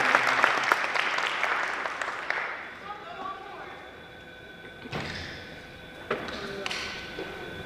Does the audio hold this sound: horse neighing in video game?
no